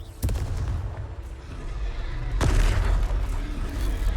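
Booming blasts from the Confringo fire spell in Hogwarts Legacy, with a sharp hit near the start and a second, heavier explosive burst midway that rolls on under a steady rumbling background.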